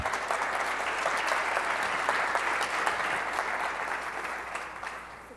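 Sustained audience applause at a Tableau conference session as a presenter is welcomed to the stage, dense steady clapping from a large crowd that slowly fades toward the end.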